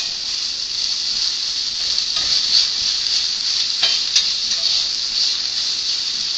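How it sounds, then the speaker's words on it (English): Beef stir-frying in a pan for spicy Chinese beef, giving a steady bright sizzle throughout with a few scraping stir strokes and small crackles, close and continuous with no talking. "you stir fry it until the beef is done"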